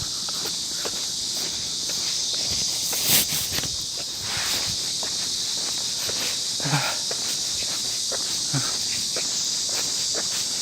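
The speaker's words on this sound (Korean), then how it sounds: "그러면 매미 소리가 들 겁니다." Summer cicadas drone in a dense, steady, high-pitched buzz that fills the whole stretch. It stays fairly loud and constant, with footsteps and rustling close by underneath.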